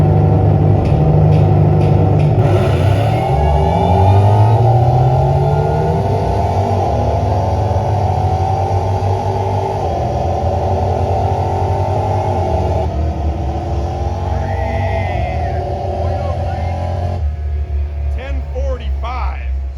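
An engine hums and revs at Roadkill Nights 2023, with pitch sweeps rising and falling as the RPM changes, under steady near rumble. People talk over it at times.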